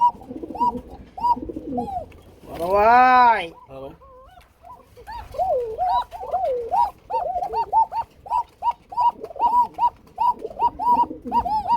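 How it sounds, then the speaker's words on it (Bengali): Fancy pigeons, including a hen, coo again and again in close, rhythmic bursts, with one louder, drawn-out call early on, while someone talks briefly over the birds. "অনেক কবুতর মাদি ডাকে না, দেখছেন? এটা মাদি আর বেশি ডাকে"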